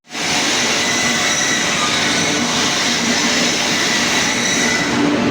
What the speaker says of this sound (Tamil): அங்கே போகிற ட்ரெயின் இது